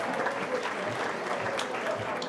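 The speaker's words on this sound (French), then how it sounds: "Vous pouvez les applaudir" Audience applause for Guy Abraham and Sophie Tarel at a 25th-anniversary CITESTARS celebration, a steady wash of many hands clapping at moderate distance, with faint voices mixed underneath throughout.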